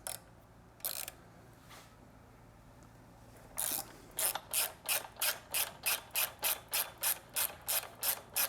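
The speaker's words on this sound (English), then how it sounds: "Next we want to remove the foot peg mount and bushing using a 12mm wrench and a" A 12mm wrench and a 6mm hex ratchet work on the foot peg mount of a Triumph motorcycle, giving a few scattered clicks and then a close, even run of a dozen or more quick ratchet strokes.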